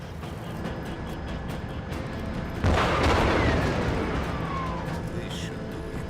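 An explosive detonating in the video game Just Cause 3, a sudden loud boom with a rolling, decaying rumble and debris noise that lingers for several seconds over steady background ambience.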